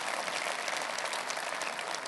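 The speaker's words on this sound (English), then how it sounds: "I never thought I'd get such applause for Jeremy Corbyn at a Tory party conference." Applause from the audience at a Conservative Party conference in Manchester, a dense, steady wash of clapping filling the hall, loud and continuous with no voices over it.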